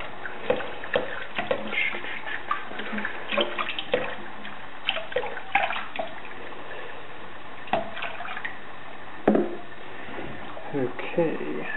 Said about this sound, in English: Let's get some water going here